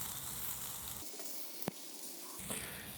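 Food crisping on an Ugly Drum Smoker grill, a faint steady sizzle and hiss with a brief gap and a single sharp click partway through.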